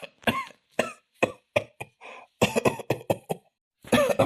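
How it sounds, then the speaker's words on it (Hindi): A woman coughs repeatedly in close, dry bursts, several in a row with brief pauses, ending in a longer rough cough. "बहुत खांसी आवत बा"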